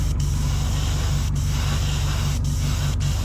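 Close, steady hiss from an airbrush laying paint coats onto a 1/20 scale Ma.K Superball model kit, continuous and loud with a few very brief breaks.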